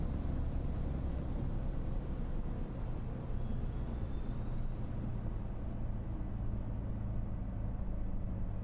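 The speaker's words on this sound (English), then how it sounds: "Nice ground roll noise again" Cessna C172 ground roll in the MSFS simulator with the Boris Audio Works sound pack gives a steady low rumbling drone of tyres and airframe, constant and fairly loud with no talk.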